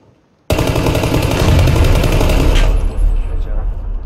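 Gunfire in the video game PUBG from a weapon set to single-fire mode, a loud dense burst starting abruptly after a short silence and continuing for several seconds before easing slightly, with a voice briefly heard.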